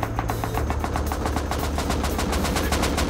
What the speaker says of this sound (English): That's explosive rounds, I'm pretty sure.